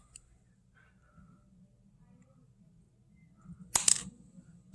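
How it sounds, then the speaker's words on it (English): Small, coarse gold nuggets dropping into a gold pan by a river, a quiet stretch and then a quick cluster of bright metallic clinks close by. "Just love hearing them drop in the pan"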